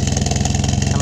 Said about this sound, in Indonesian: Suzuki Satria 4 tak. Nah, ini original Suzuki.